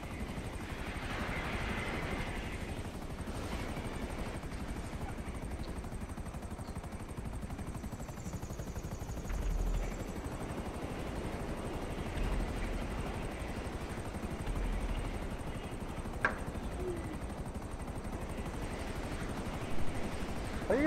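A jet in a video game drones steadily for about twenty seconds, a constant broad engine roar with a thin whine above it, moderately loud and unbroken, with a few faint clicks and bumps mixed in.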